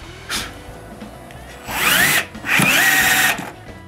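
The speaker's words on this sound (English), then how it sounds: "drill pilot holes into the door frame" A power drill boring pilot holes into a wooden interior door frame, running in two sustained whirring bursts with a short break between, close and loud, after a brief earlier spin-up.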